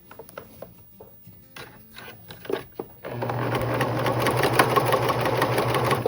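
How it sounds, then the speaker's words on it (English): A small old sewing machine with a walking foot stitches quilt binding through all layers, starting with a few scattered taps and clicks, then running in a loud, steady, close whirring drone for the last three seconds. "then I'll just start stitching as I go"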